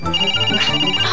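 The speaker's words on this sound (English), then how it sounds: "Yeah, quick, find the phone, Tilly." A telephone rings in a 1999 children's TV programme, giving one bright, continuous electronic ringtone for about a second, loud and alone.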